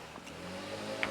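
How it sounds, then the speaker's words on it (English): A leaf blower's steady, droning motor whine runs continuously in the background, a constant engine-like hum with no pauses. "Excuse the leaf blower in the background"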